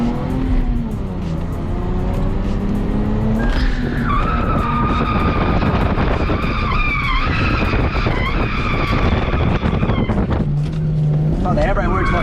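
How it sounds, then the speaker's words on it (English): A 114 kW car drifts on a dry track, probably in Australia, with the engine roaring and tyres screeching loudly and continuously for the whole stretch. Voices talk over the noise. "This is my first ever drift in the dry, and the car only has 114 kilowatts."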